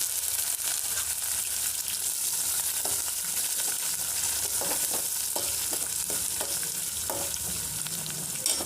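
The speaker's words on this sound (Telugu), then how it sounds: "పచ్చిమిర్చి, ఆనియన్, కరివేపాకు 3 వేసేసుకున్నాము" Green chillies, onion and curry leaves fry in hot oil for upma, giving a loud, dense, continuous sizzle close by, with light stirring scrapes and pops scattered throughout.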